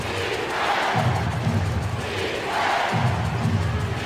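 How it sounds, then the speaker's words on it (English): A fired-up basketball arena crowd in the NBA Live 07 video game roars steadily, with louder surges of cheering swelling in waves throughout. "you can feel this crowd is fired up"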